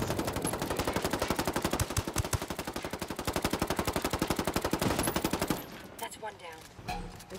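Sustained rapid automatic gunfire in the tactical shooter Ghost Recon Ghost War, a dense steady burst of shots lasting several seconds before cutting off into scattered quieter noises and faint voice.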